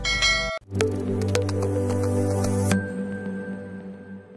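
A bright bell-like chime rings out with a few metallic clinks, then a sustained tone lingers and fades; no one speaks.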